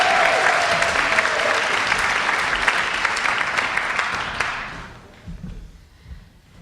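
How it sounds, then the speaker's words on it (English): Loud audience applause fills the room, steady clapping from a crowd that fades out near the end. "Give it up for Judy Remz"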